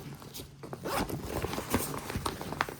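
Front-pocket zipper on a Patagonia Black Hole 5L waist pack being pulled open, a close, scratchy rasp broken into several quick uneven strokes across a few seconds.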